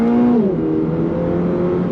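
A loud, close 2025 Toyota GR86 engine pulls hard on throttle, its tone dipping as it shifts and then climbing steadily under power.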